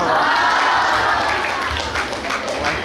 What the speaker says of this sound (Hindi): बहनों के लिए जोरदार ताली बजाएं और उनको धन्यवाद दें।